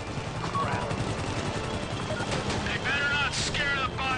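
Rapid bursts of gunfire aimed at a helicopter during a GTA5 heist mission, loud and continuous with the helicopter's drone underneath and voices talking over the shooting.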